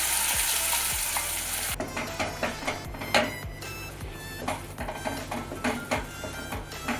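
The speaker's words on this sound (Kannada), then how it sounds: "ಚೆನ್ನಾಗಿ ಫ್ರೈ ಮಾಡ್ಕೊಳ್ಳೋಣ" Ground raw mango frying in a pan, a continuous hiss broken by repeated rhythmic scraping strokes of a spoon stirring, close and fairly loud.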